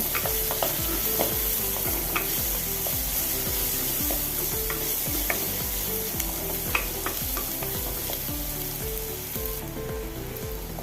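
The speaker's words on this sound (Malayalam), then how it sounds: "രണ്ട് വലിയ സവോള അരിഞ്ഞതായത് അടുപ്പത്ത് ഇട്ട് കൊടുക്കുക നല്ലപോലെ ഇളക്കി കൊടുക്കുക" Two large sliced onions sizzle in a hot pan on the stove while a spoon stirs them, giving a steady frying hiss with repeated scraping strokes throughout, close and fairly loud, no voices.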